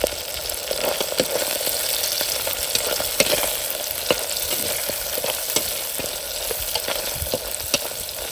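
Garlic, cumin and mustard seeds fry steadily in a pan for a wild leaf curry, a continuous close sizzle broken by scattered sharp crackles and pops, with no voices.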